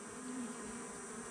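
Honey bees buzz in a hive during a queen rearing check, a steady, even drone of many bees close by with no pauses and no talking.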